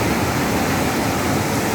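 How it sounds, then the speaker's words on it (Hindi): Rushing floodwater pours through during heavy rain in Rajasthan, making a dense, steady roar of broadband noise that stays loud and unbroken from start to finish, with no voices. "पानी का प्रवाह सब कुछ अपने साथ बहा ले जाने पर आमादा है।"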